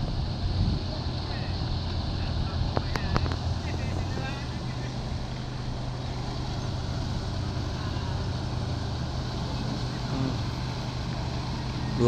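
Twin engines on a speedboat roar at full throttle on a river running low, a steady dense drone with wind buffeting the microphone and voices speaking over it.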